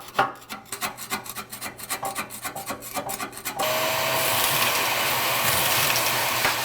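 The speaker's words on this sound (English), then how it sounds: "To get down in these corners, I'm going to use a flathead screwdriver. Just scrape this." A flathead screwdriver scrapes ash from the corners of a Harman P Series pellet stove (P43, P61A, P68) in quick rhythmic rasping strokes, then a loud steady vacuum-like rush takes over for the rest.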